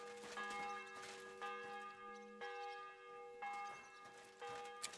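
Church bell in the video game Kingdom Come: Deliverance II, struck about four times at an even pace, each strike ringing with a long metallic hum that decays into the next, fairly quiet and alone.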